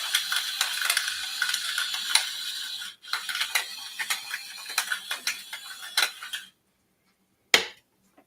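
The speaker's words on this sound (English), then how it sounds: "You can hit them with some pepper." A hand pepper grinder twists over raw steaks being seasoned for a woodstove steak night, giving a close, dry crunching rattle in quick repeated bursts for about six seconds, a short pause, then one last brief crack.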